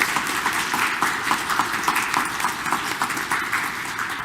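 Continuous applause from a sizable church congregation at a Korean Catholic Mass in Detroit, evenly sustained clapping with no talking over it.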